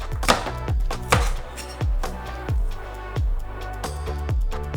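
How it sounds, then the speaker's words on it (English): A knife chops sugarcane into small cubes on a cutting board, about seven loud, sharp, evenly spaced whacks close by with no talk. "so chopping these up real quick here into little cubes"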